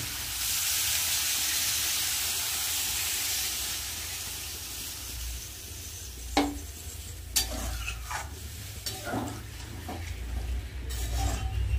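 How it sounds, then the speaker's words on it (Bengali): Covered vegetarian masala with peas sizzling and simmering in a pan, a steady soft frying hiss throughout with a few sharper clinks and stirring knocks in the second half. "ঢাকা দিয়ে দিই, মশলাটা কষুক। মটরশুঁটিও দিয়ে দিয়েছি, এবার একটু জল দিয়ে দেবো।"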